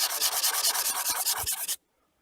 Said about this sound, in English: rub that burr off